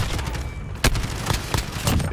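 Bursts of gunfire from Call of Duty Modern Warfare, several sharp loud shots and short volleys rattling over about two seconds, close and dense with no talking.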